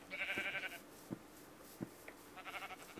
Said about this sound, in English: This is an unbelievable amount of sheep.